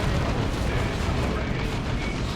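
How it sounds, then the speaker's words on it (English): A Space Marine lascannon, an anti-vehicle weapon, fires in a Dawn of War 2 battle against Orks: a dense, loud roaring blast of noise filling the whole short stretch. "Here's a las cannon now from IskNorthen."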